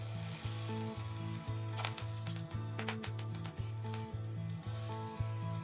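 Curry leaf and drumstick leaf pakoda batter frying in hot oil, a steady loud sizzle with crackling bursts throughout, while a low repeating musical tone plays beneath.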